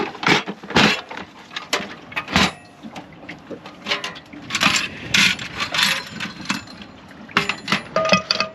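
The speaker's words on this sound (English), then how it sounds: "Did she crush the oats or something?" Oats being crushed for protein pancakes at a remote campsite, giving irregular crunching, scraping and rattling bursts, fairly close and moderately loud, with no talk.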